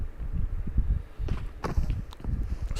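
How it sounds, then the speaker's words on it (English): Footsteps in an online battle royale esports match sound as a run of irregular low thuds, mixed with scattered sharper clicks from game effects. "He must hear the footsteps now."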